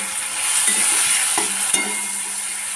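Spices with a little cumin powder sautéing in a pan for a dhaba-style vegetarian chhana curry, a steady sizzle and hiss broken by a few scraping stirs, close and alone.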